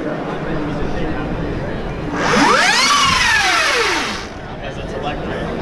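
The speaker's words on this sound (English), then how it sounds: "Electric bike." An Energica electric motorcycle passes close by with a rising and falling whine that lasts a couple of seconds over steady background noise.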